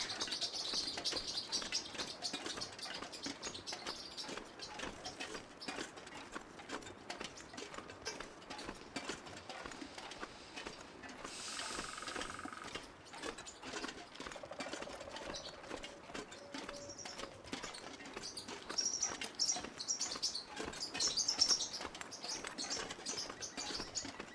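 Birds squabble and fight, producing a continuous busy stream of rapid chirps, chatter and flapping wing noise over more than twenty seconds, with occasional louder bursts and no talking.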